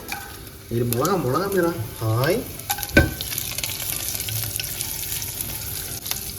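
Mustard seeds crackle and spit in hot oil with a steady sizzle and sharp pops, while a brief sing-song voice sounds early on.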